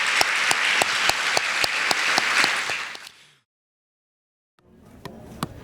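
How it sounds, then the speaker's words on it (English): An audience at the 2025 Night of Champions gala applauds loudly for about three seconds and then stops abruptly. After a short silence, scattered clapping starts up again. "please give a round of applause for Orlando Health"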